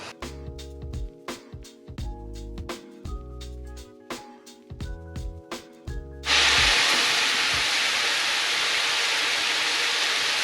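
Teriyaki steak dropping onto a hot grill and bursting into a loud, steady sizzle that runs to the end, after a stretch of rhythmic knocking and clattering cooking sounds.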